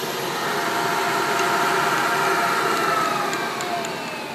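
An Acer CNC vertical mill spindle spins at 4,200 RPM, giving off a steady, fairly loud whine with faint tonal hum and a slight fade near the end, no talking.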